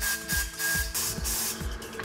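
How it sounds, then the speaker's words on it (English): The bead press roller of a TWIN BUSCH TW X-36 tyre changer moves into position, making a short, close mechanical whir with rapid rhythmic pulses and a hissing edge. "The bead press roller is then brought into position."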